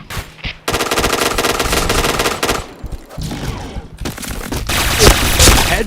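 Rapid automatic gunfire from the shooter game Point Blank, bursts loud and close, broken by a short pause and then resuming with heavier shots and impacts.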